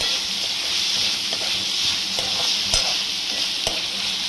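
Onions frying in a pan while a spoon stirs them, a loud continuous sizzle with a few sharp scraping knocks from the stirring, and no talking.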